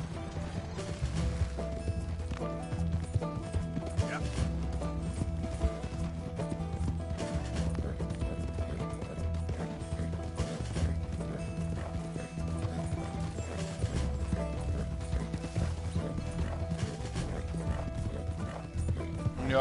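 Horse hooves and a carriage in Red Dead Redemption 2, a rapid steady clip-clop of galloping hooves with rolling rumble underneath, continuous and close, with occasional whinnies mixed in.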